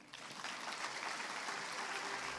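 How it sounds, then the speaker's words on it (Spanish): Churchgoers applaud the Lord during a Christian sermon, a soft but steady rush of many hands clapping together that swells slightly after the first moment. "Un aplauso al Señor."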